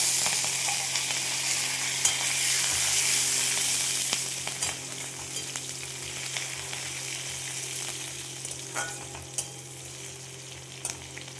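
Onion and hing fry in hot oil for a matar dal vegetable dish, a loud dense sizzle that eases slightly after a few seconds, with scattered pops and clinks and no voices.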